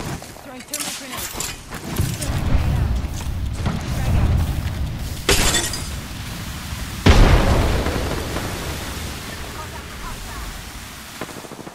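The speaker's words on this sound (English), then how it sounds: "Throwing thermal grenades." Thermal grenades go off in the Apex Legends video game as several heavy booming blasts with a rumbling, crackling tail, mixed with steady game noise.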